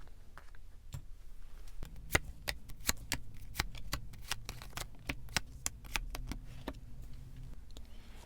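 Tarot cards are drawn and flipped open on a table for a weekly reading, giving a close series of crisp, snapping flicks and soft card rustles at an irregular pace, with no talking.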